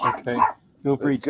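Dogs bark in loud, close bursts with a pause between them, sharp yips mixed with deeper woofs. A person speaks briefly over the barking.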